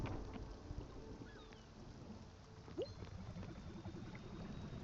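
Stormy weather in the video game Spiritfarer, a low continuous rumble of rain and thunder holding steady for a few seconds, faint and distant beneath a soft high hiss.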